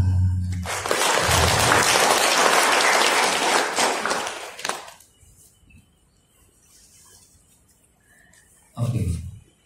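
A group claps hands together at an Ehipassiko meditation session in Semarang, a dense burst of applause for about four seconds that fades out, followed by quiet and a brief closing sound.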